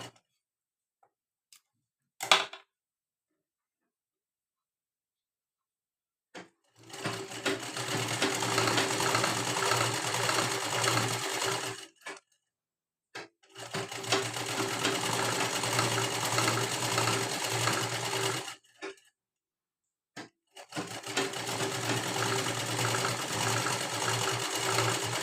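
Sewing machine stitching a folded blouse hem in three long bursts of rapid, steady whirring and ticking, separated by near-silent pauses with a few small clicks of fabric handling.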